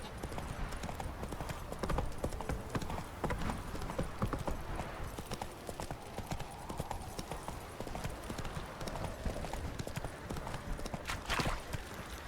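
Roach, the horse in The Witcher 3, gallops steadily with a rapid, continuous clatter of hooves, fairly close and moderately loud, joined by a brief sharper sound near the end.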